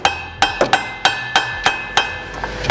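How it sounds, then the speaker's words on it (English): A series of about nine sharp metallic taps on the back of a gearbox to line it up, close and fairly loud, in an uneven rhythm over roughly three seconds. "You just give it a little tap on the back."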